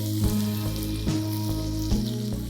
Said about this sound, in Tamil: இப்போ வெங்காயம் வதங்கிட்டு இருக்கட்டும்